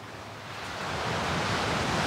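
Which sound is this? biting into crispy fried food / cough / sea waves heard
sea waves heard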